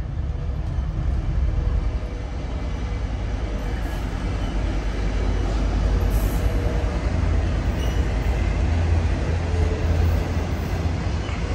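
A Union Pacific auto rack freight train rolls past Oakland's Jack London Square station late at night, a loud, steady low rumble and rattle of wagons close by, continuous throughout with no horn.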